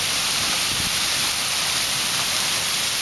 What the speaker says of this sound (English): It's all cloudy and it's raining cats and dogs.